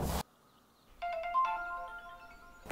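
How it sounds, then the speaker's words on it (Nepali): A phone ringtone plays a clear, bright electronic melody of repeating notes in a Nepali film scene, starting after a short burst of voice and running steadily to the end. "कसको फोन आयो"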